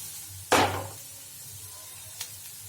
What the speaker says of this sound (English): once you start frying the onions, you'll come to know that eventually it will be reduced much.